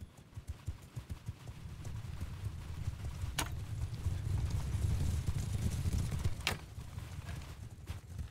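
Horses in Mount & Blade II: Bannerlord galloping in a mass, a rapid continuous drum of hooves building into a dense rumble, with a couple of sharp clanks standing out over the thundering herd.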